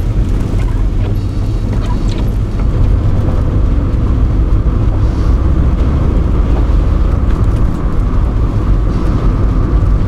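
An automatic Opel Kadett D drives on snow and ice in winter, its engine a loud, steady drone mixed with constant tyre and road rumble that stays unbroken throughout, with no voices.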